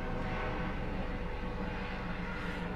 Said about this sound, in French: C'est un hélicoptère qui va chercher de l'eau pour éteindre un feu.